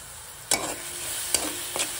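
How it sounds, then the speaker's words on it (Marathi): Spiced bottle gourd vegetable mixture stirred in a pan, three distinct scraping stirs over a soft, steady frying sizzle, with nobody talking. "साहित्य चांगलं मिक्स करून घेऊया।"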